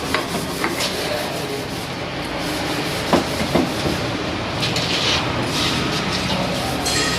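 Greased steering rack from a Volkswagen Polo being slid into its rack tube, giving a continuous close scraping rub of metal with a few brief knocks partway through.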